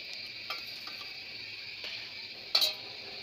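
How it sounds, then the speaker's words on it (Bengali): Fried fish is slipped into boiling gravy in a pot for a home-style fish curry with onion leaves: a quiet, steady bubbling with a few soft clinks and one sharper knock near the end. "ঝোলে বলক এসে পড়ছে, এখন আমি ভেজে রাখা মাছগুলি এটার মধ্যে দিয়ে দিব"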